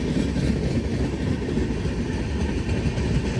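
Pune Superfast express train running at speed, heard from inside a sleeper class coach: a steady, dense rumble of wheels and carriage noise, loud and continuous with no voices.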